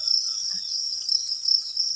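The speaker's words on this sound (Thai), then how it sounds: "นี้ก็เป็น จิ้งหรีดของเรานะคะ อันนี้เป็นทองดำเนาะ" Farmed black crickets, a Thong Dam type about forty-one days old, keep up a dense, continuous high-pitched trilling chorus. The chirping is close and steady, with no voices.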